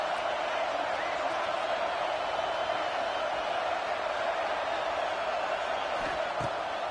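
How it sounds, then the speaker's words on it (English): Ohio State's Buckeye stadium crowd roars continuously on third down in a college football video game, a dense, steady wall of cheering noise with no break. "the Buckeye crowd alive on 3rd down."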